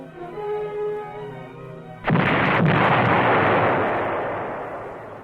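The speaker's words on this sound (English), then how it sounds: "Once the charge is set, the cry of fire in the hole is passed along the line" A demolition charge set by Marine engineers detonates with a sudden loud blast, followed by a long, dense roar and rumble that slowly fades after a quieter stretch of low background sound.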